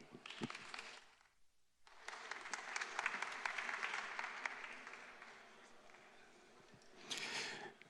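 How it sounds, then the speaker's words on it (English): Audience applause for a keynote speaker at a conference, a brief burst of claps that pauses, then swells into sustained, fairly dense clapping with a louder lift near the end. "Let's have a round of applause for Ziv."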